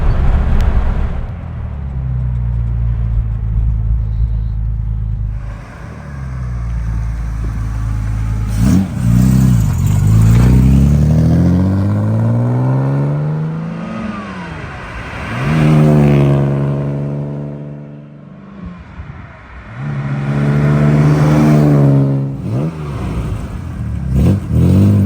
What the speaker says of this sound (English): We're going to pull over up here so we can do our flybys.